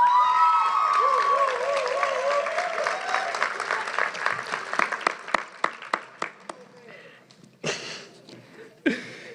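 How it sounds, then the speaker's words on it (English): An audience at a graduation ceremony applauds the school principal, cheering over loud clapping that thins out into scattered individual claps, with a few late bursts near the end. "let's give a round of applause to our principal"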